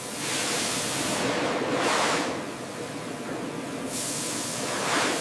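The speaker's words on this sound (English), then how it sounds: "Powerful sprays clean the fruit surface." Powerful water sprays wash mangoes in a packing factory, a steady rushing hiss that swells and eases in broad surges, alone and moderately loud.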